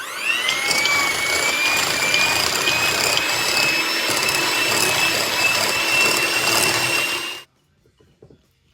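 An electric mixer creams cream cheese spread on medium speed with a steady whirring motor whine and beater rattle running about seven seconds close up, then cuts off into near silence.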